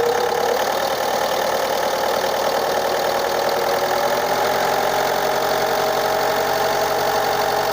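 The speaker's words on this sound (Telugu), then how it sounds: "ఒకసారి ఇంజిన్ కూడా స్టార్ట్ చేసి చూపిస్తానండి నేను" A 2017 Ford EcoSport's engine idles in a steady, even hum with a faint ticking texture, close and constant throughout, with no voices.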